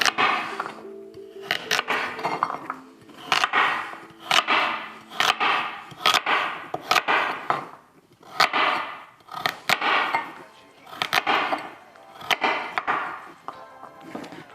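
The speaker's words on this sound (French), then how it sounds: "On fait pareil pour les carottes. Je fais les deux en même temps, c'est plus pratique. J'ai un gros couteau de cuisine qui coupe bien." Carrots chopped with a big kitchen knife while making homemade horse treats: repeated sharp, fairly loud thwacks of the blade on the board come in quick bursts and steady runs, with no talking.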